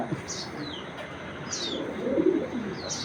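Racing pigeons coo softly and repeatedly at close range, with a low murmuring background of other birds.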